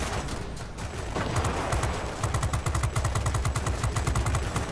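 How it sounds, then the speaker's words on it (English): The 20mm cannons of an F7U Cutlass jet in World of Warplanes fire over a steady engine drone, opening with scattered shots and then settling into a fast, even, thudding rhythm of rounds. "So you get really good hitting 20mm cannons, as you can see here."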